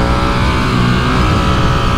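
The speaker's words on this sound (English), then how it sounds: "Oh, that pulls hard. Yeah, it's a revy engine" Ducati Streetfighter V2 engine revving hard on a UK road ride, a loud, dense, continuous close engine roar with wind noise throughout.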